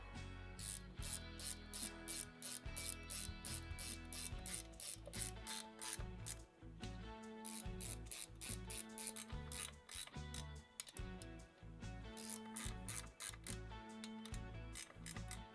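Ratchet wrench snugging bolts on a Harley-Davidson Sportster engine near the rocker box, its rapid clicking ticks repeating steadily in close back-and-forth strokes with barely a pause.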